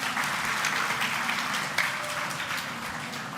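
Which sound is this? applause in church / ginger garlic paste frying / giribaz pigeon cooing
applause in church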